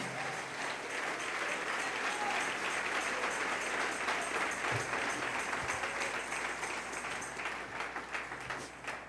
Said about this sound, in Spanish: Denle un aplauso al Señor en esta preciosa noche.